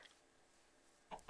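A Minecraft chicken clucks twice near the end, two short faint bursts after a quiet stretch, while the player leads it on a leash.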